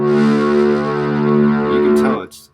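A synthesized tone imitating a trumpet holds one buzzy, harmonically rich note with a distorted edge, steady and loud, before cutting off abruptly.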